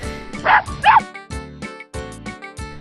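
A pet dog barks and yips in a short run of sharp, close barks, several in quick succession with brief whimpering tones between them.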